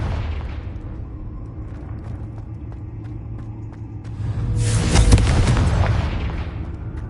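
A Confringo fire spell explodes in a wizarding video game, a single loud rumbling boom that swells and fades over a few seconds above a low steady background.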